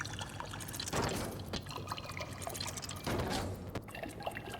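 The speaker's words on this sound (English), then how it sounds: "So let's go water some plants." Water pouring from a watering can onto plants in the video game MOUTHOLE, two splashy pouring bursts with dripping and trickling in between, fairly quiet and close.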